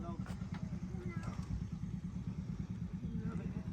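A motorcycle engine runs with a steady, low chugging rumble close by. It holds a constant pulsing throb, and a voice talks over it throughout.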